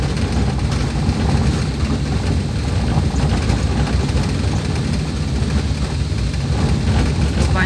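An asphalt hot-mix machine engine runs during road paving, a loud, steady low-frequency roar and rumble that continues without break, with no clear talking.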